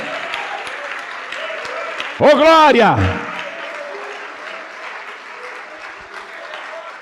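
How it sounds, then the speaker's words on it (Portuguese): Steady applause from a church congregation fills the space while someone shouts an exclamation over it, his voice rising loudly for a moment before the clapping carries on alone. "Vamos aplaudir mais, igreja."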